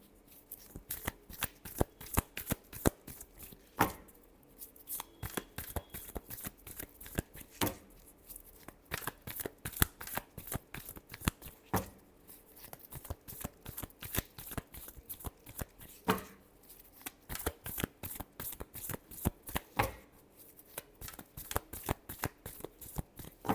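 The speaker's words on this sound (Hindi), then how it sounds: "Last shuffle." A deck of tarot cards shuffled by hand at close range, rapid repeated riffling bursts and soft slaps continuing steadily throughout, with no talking.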